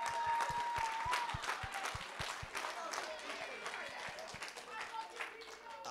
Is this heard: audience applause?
yes